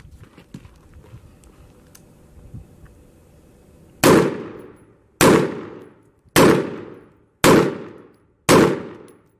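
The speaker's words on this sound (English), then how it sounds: "engage the target with 5 rounds kneeling in 20 seconds" Five rifle shots fired at a target from the 50-yard line in a kneeling position, spaced about a second apart, each a loud sharp crack with a ringing decay, following a few seconds of quiet range ambience.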